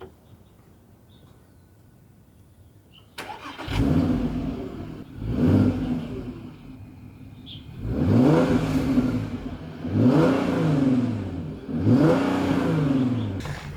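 A motorcycle engine with no exhaust fitted, sounding fairly mellow, revs in about five distinct bursts after a few seconds of near quiet, each swelling and falling back, close by.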